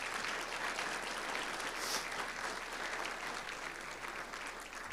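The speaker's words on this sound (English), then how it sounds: "Please give them a round of applause for making tonight happen." An audience at a school awards evening applauds in a dense, sustained burst of clapping that fills the whole stretch, with no talk.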